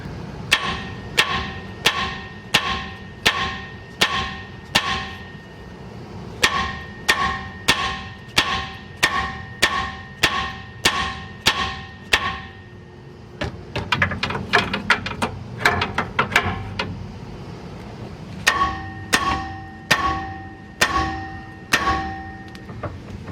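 Sharp metallic hammer blows ring out in rapid regular bursts, pausing briefly between runs, with a flurry of quicker clanks in the middle, knocking a stuck nut loose on a Jeep suspension track bar.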